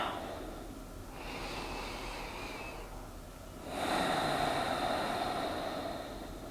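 Slow, deep breaths during a relaxation exercise for an overwhelmed mind, a soft breathy inhale followed by a longer, fuller exhale, close and unhurried with no talking.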